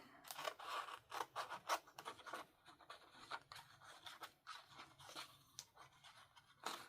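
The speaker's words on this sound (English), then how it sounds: "now we want to trim this. We'll trim it this way." Scissors snip and scrape through a paper card in a string of short, close cuts and rustles, with no talking.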